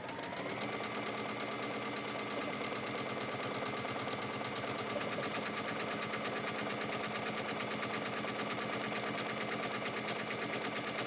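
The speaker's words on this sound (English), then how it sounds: "let's go ahead and sew our buttonhole" A sewing machine runs steadily for about eleven seconds, stitching a buttonhole on a wrap dress. It makes a fast, even mechanical chatter, close up with no talking.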